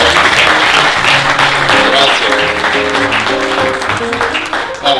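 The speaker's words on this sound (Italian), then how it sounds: "Se volete fare un applauso all'azienda agricola Ornella Bellia e alla famiglia che ci ospita." Applause for the Ornella Bellia farm and host family at a Venetian winery, loud sustained clapping from a gathered crowd mixed with a held musical tone and some voices underneath.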